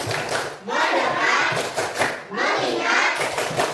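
Schoolchildren in an Indonesian classroom perform a patterned focus clap, with sharp bursts of group handclaps in a quick rhythm over roughly four seconds, children's voices chanting along close by.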